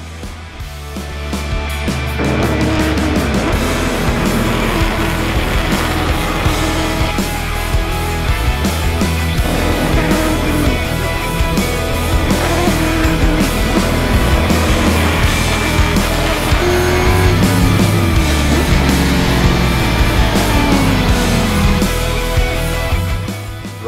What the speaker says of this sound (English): The rest of the race was a battle for the lead that reminded us why these cars were so popular to watch in their heyday, with Dwayne, Alistair and Robbie all swappi